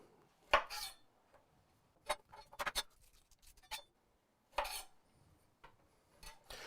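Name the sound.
crushing and cutting a garlic clove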